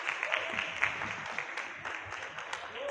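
Audience applause at a book presentation event, a steady dense patter of clapping from a crowd filling the room for about three seconds, fairly close and even throughout.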